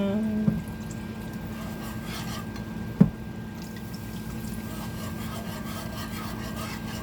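Whisking a lasagna mixture in a bowl makes continuous scraping and rubbing strokes, moderately close and steady, broken by a sharp clink of the whisk against the bowl partway through.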